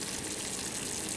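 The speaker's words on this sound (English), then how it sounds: "lemon juice, water, and sugar boiling away with the candy thermometer" Lemon juice, water and sugar boil steadily in a pot for Turkish delight, giving a continuous soft bubbling hiss close by with no talk.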